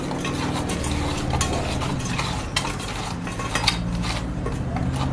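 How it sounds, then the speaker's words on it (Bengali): Chanda sea fish being mixed by hand with spices in a bowl, a steady, close, wet squishing and rubbing that runs without pause, with no talking. "আমি মাছটা মেখে নিচ্ছি"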